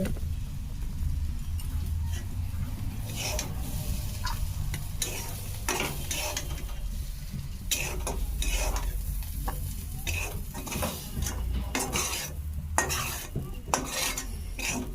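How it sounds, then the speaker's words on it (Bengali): Ivy gourd and potatoes stir-fried in a pan, with steady sizzling and frequent scraping and clinking of a spatula against metal throughout. No speech is heard. "আর কুঁদলি আলু ভাজছি"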